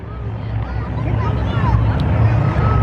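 Continental aircraft engines on a formation of planes taking off at the Flying Circus Airshow, a loud droning engine roar that swells as they run up, with a voice talking over it.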